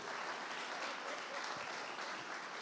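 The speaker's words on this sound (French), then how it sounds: "Je vous demande d'applaudir." Continuous audience clapping fills a convention hall in France, a steady, moderately loud wash of applause for an incoming host, with no speech over it.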